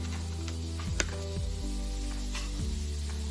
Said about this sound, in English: This is the way I would start the cooking process of my chickpeas.